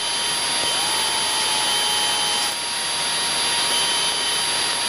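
Light aircraft engine droning steadily in flight during descent, a loud continuous close hum with a strong broadband roar and a faint dip in level partway through.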